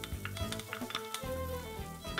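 Onions and garlic sizzle in a frying pan with salt and pepper, a steady close fry broken by clinks and scrapes of a utensil against the pan.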